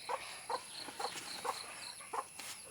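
Chickens cluck around scattered feed, short bursts of clucking repeating every half second or so at a moderate distance, with no talking.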